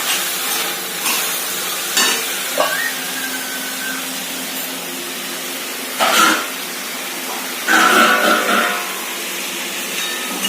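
Dried fish being sautéed in a pan for a Bengali shutki and home-grown eggplant dish. A soft, steady sizzle runs throughout, broken by several louder scraping stirs against the pan.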